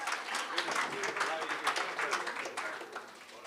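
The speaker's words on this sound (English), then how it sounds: "Linda Thompson, a round of applause to you" Applause for an award recipient at an annual general meeting and awards evening, a steady patter of clapping from a seated audience lasting throughout and tapering slightly at the end, with chatter mixed in.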